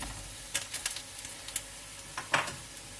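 Vegetables and whole spices frying in a pan for chicken pulao make a faint, steady sizzle, broken by a handful of quick stirring clatters and scrapes.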